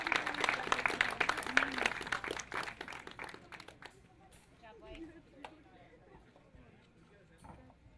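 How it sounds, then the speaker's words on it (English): Scattered applause from a crowd at a 2023 pro water ski tournament in Calgary, loud at first and then thinning out to a few sparse claps, with voices murmuring underneath. "one last round of applause"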